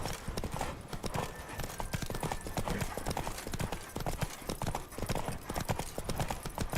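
Rapid, continuous hoofbeats of a galloping horse in a video game pound close and loud, with a faint voice speaking briefly underneath.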